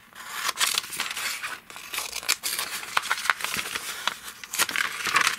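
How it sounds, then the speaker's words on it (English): Scissors snip and rustle through wrapping paper while a single balloon shape is cut out for a birthday card, giving a close, irregular series of crisp cuts and crinkles with short pauses. "grab some scissors and cut it out."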